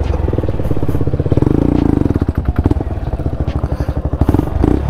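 An off-road motorcycle climbs a dirt slope, its engine firing in rapid, loud, close pulses that rise and fall with throttle over scraping and clattering.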